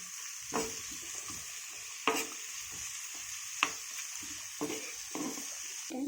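Onions and tomatoes sautéing in a pan, giving a steady sizzle with a spoon scraping and stirring in soft, repeated strokes, fairly close and even, with no talk.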